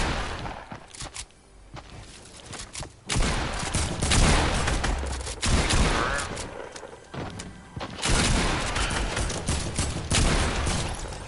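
Pump shotgun blasts in a video game: repeated loud, sharp shots fired in quick bursts over a steady roar of gunfire, with a voice talking at times.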